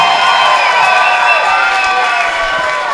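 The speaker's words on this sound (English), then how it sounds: "let's give both of these fighters a big round of applause" At a Universal Combat League fight event, a large crowd cheers and applauds loudly, and a bright tonal sound rings steadily over the noise while the roar tapers slightly toward the end.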